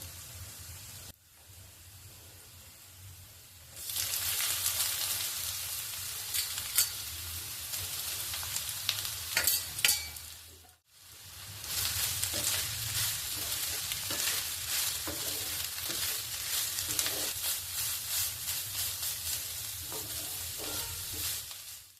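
Squeezed, drained radish drops into hot oil with crushed garlic for a radish chutney, bursting into a loud bright hiss that sizzles steadily with stirring, briefly dipping mid-way, no talking.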